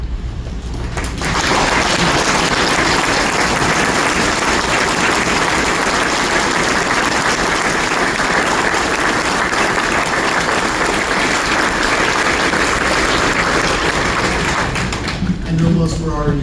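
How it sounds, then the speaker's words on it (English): Loud, sustained applause from a large crowd honoring members of a city police department at a ceremony, starting abruptly and holding steady for about fourteen seconds before tapering off. "join me in giving the members of the police department a round of applause for their dedication and service"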